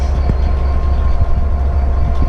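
The overnight sleeper train from London to Inverness gives a loud, constant low rumble with steady rolling noise and faint intermittent clicks from the carriage, no voices.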